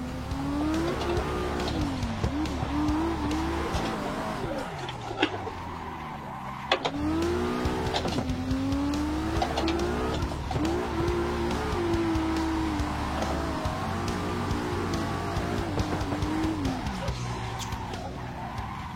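A racing car in a racing video game skids and slides under handbrake, tyres squealing in long wavering sweeps over a steady engine roar, loud and continuous with brief changes in pitch.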